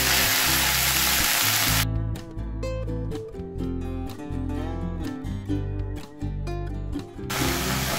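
Spinach-like greens drop into hot oil with garlic and set off a loud, dense sizzle that runs the whole time, with a brief dip in the middle.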